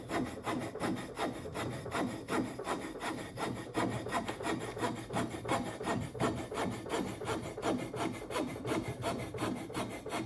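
A hand saw cuts through wood held in a vise in a steady back-and-forth rhythm, each rasping stroke close and even, with no talking.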